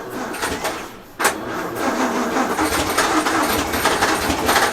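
A 1932 Morris Minor pre-war car's engine turns over, then a sharp catch leads into a loud, rough, uneven running that stays close and steady.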